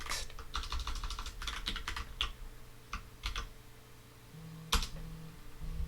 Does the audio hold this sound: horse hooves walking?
no